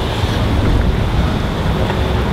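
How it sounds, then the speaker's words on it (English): Strong, gusting wind roars steadily across the microphone outdoors at a spot where LiPo batteries are being smashed, a dense, loud rushing noise that fills the whole clip with no talk over it. "Damn, that wind is lethal."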